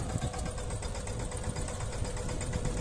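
A small mini tractor engine runs steadily at a close, even idle-like drone on a village farm, used with an automatic seed and fertilizer sower, with no other sounds over it.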